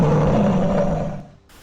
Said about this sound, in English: the lion let out more than just a rumbling growl this time.